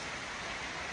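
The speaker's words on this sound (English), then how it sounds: "It's just raining." Steady rain falls in an even, dense hiss throughout, with no voices over it.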